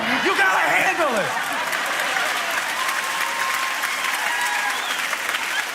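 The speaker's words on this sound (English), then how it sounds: "Why are you clapping for me?" A congregation at a sermon applauds steadily and loudly, with a voice laughing over the clapping at the start before the crowd settles into an even roar of applause.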